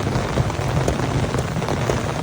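Steady rain falls on a surface outdoors at a village home, making a dense, even patter with scattered close drops, and no voices are heard.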